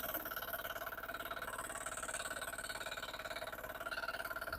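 A Sharp Garuda Indian-made machine engine runs steadily nearby with a fast, even chugging pulse and metallic rattle, holding a constant speed throughout.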